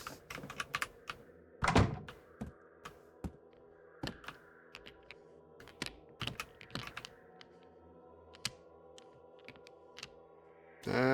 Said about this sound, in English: It's shuffling mahjong